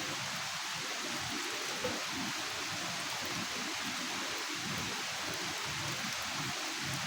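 Steady rain pours down over a chili field on a farm, a dense, even hiss that holds without a break, with no voices.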